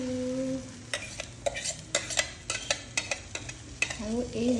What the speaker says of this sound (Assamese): মই বাটাৰ দিছোঁ ঢালি দিম ইয়াতে